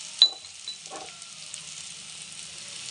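Goat blood fry sautéing in a pan with chilli powder, a soft steady sizzle with a few brief stirring scrapes near the start, fairly quiet and close, no voices.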